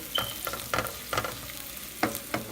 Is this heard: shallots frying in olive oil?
yes